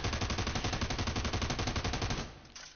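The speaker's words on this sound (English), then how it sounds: "I'll do a hip fire test of how bad recoil is compared to each gun." Rapid automatic fire from a weapon in America's Army during a hip-fire recoil test, a steady rattling burst of about two dozen evenly spaced shots, loud and close, cutting off abruptly near the end.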